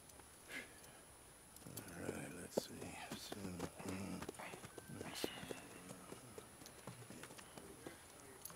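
Horse hooves clip-clop in the video game Red Dead Redemption 2 at a stable, with a steady run of light hoof strikes under quiet background ambience and murmured voices.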